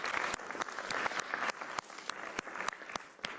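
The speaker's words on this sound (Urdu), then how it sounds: "انڈیا کے لیے تالیاں" Faint, thin clapping celebrating India's T20 World Cup cricket win over New Zealand, a short burst of scattered sharp claps with an uneven rhythm, low in level with no talk over it.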